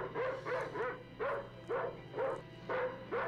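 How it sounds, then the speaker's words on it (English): A dog barks and snarls during an attack in the 1972 horror film Silent Night, Bloody Night, a rapid series of about eight evenly spaced barks, fairly close. "POVs, being attacked by a dog."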